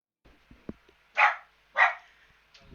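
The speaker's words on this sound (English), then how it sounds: "that's my dog." A pet dog lets out two sharp, fairly loud barks close by, spaced about half a second apart, preceded by a few faint clicks and small rustles in an otherwise quiet room.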